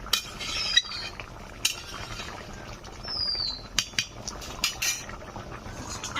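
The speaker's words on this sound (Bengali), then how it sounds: "টকবক করে ফুটতে শুরু করে দিয়েছে দেখুন।" A chicken and vegetable curry simmers in a pot, a soft bubbling bed broken by repeated clinks and scrapes of a spoon or utensil against the pan.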